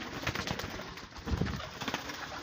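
Domestic native pigeons coo softly and low, a faint murmuring call close by with light rustling around it.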